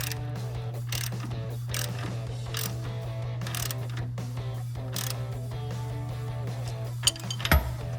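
Bolts being tightened on forged upper control arms of a 2007-2016 Chevrolet Silverado 1500, a run of rapid ratchet clicks in short bursts over a steady low hum, ending with a metallic clink.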